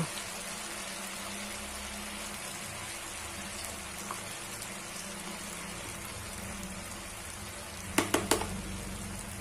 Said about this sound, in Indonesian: Untuk menggoreng tahu keriting renyahnya ini, di sini kita gunakan api yang sedang, cenderung besar.